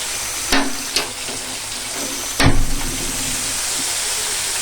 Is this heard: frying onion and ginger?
yes